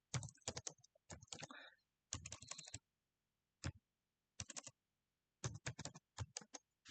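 Code goes in on a computer keyboard for a beginner Python program, with bursts of quick, close key clicks separated by short pauses, quiet and with no voice.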